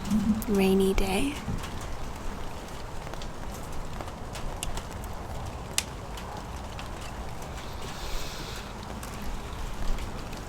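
Steady rain falls on a warm, rainy day, a soft continuous hiss from outside a sheltered spot, with a brief tonal sound near the start and faint scattered drips throughout.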